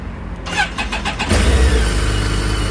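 A 2007 BMW K1200 GT motorcycle engine cranks with a rapid starter whir for about a second, then catches and settles into a loud, steady idle close by.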